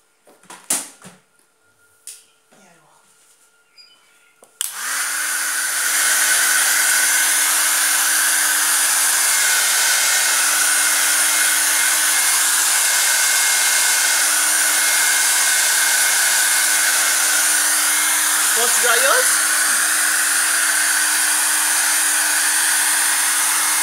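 A few soft knocks and handling sounds, then a hair dryer switches on and blows over craft paper with a loud, steady whir for the rest of the clip.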